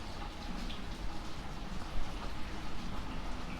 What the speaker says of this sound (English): it's drizzling weather. You can probably hear it tinkling in the gutters.